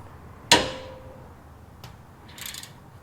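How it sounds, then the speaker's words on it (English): A 13 mm caliper bolt is loosened on the rear brakes of a 2017-or-newer Ford F-150: one sharp metallic crack with a brief ring, followed later by a faint tick and a light rattle. "step one is we're going to want to undo these two bolts. They're 13 millimeter"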